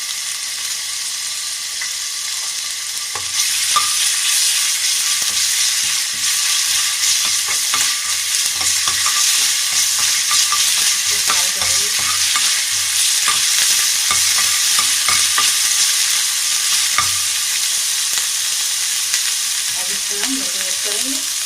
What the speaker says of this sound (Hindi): अब 1 चमचे के करीब हम इसमें अदरक लहसुन का पेस्ट डालेंगे।